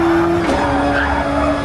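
Tires squeal as a racing car slides and loses control on the Kyoto circuit in a racing video game, a loud steady screech with a bending pitch over continuous engine drone.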